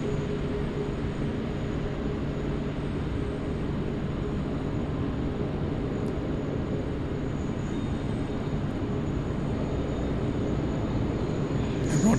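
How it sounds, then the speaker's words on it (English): A Qantas Airbus A380 airliner taxiing at Sydney Airport produces a steady, even engine drone with a constant whine, unbroken and moderately loud, with no talk over it. "Qantas 127, the A380, it's departing to Hong Kong"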